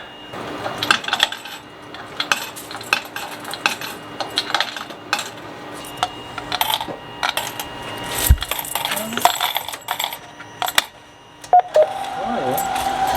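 Coins clatter and jingle as they drop into an ATM deposit machine in Japan, a busy run of close metallic clinks and rattles, with machine beeps and people talking now and then.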